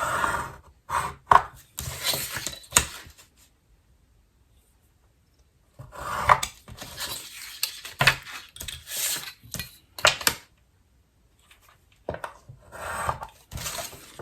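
Paper card template parts for a three-fold card being cut out by hand, heard as close, intermittent bursts of rasping, rubbing strokes separated by stretches of silence.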